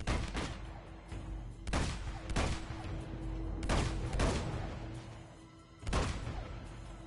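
Video game gunfire from soldiers in Uncharted 2: several sharp, loud bursts of shots at irregular intervals, with a steady low hum and rumble between them.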